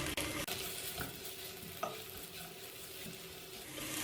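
Onion and tomato sautéing in a pan with Kashmiri chili powder for egg biryani, a continuous sizzle with occasional spoon scrapes and stirring knocks, close and alone without talk.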